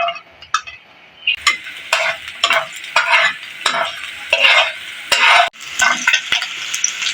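Chopped garlic, ginger and green chilli frying in hot oil for chicken momo filling, with loud, busy sizzling and crackling and repeated scraping strokes of a spoon stirring the pan, close up.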